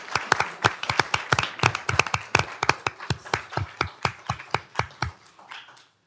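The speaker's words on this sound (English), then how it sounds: "How about a round of applause for these gentlemen and what they do?" A round of applause in a county commissioners court, with sharp distinct claps from a small group. The claps form a steady stream that thins out and fades toward the end, with no talk over them.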